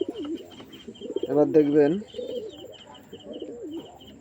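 Pigeons coo in soft, throaty bursts close by as a female bird is shown for sale, with someone talking over most of the calls.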